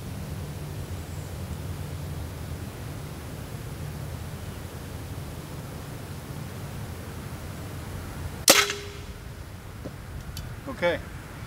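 A single rifle shot rings out, fired at a pumpkin 100 yards away outdoors. It is a sharp crack that rises out of steady wind-like hiss, followed a couple of seconds later by a fainter second report.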